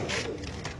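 Pigeons at a pigeon farm in Mirpur, Dhaka, giving a brief, close, low coo over a busy background.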